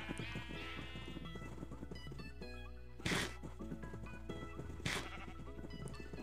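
Sheep in Minecraft bleat several times in short wavering calls over a busy game background, with a couple of brief louder bursts.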